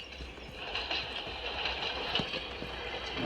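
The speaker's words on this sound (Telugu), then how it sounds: "ఇక్కడ ట్రైన్ ఉందిరా పైన" A train runs on tracks overhead, a faint, steady rumble with soft rhythmic clacks and a high metallic tone, heard from below without any talk.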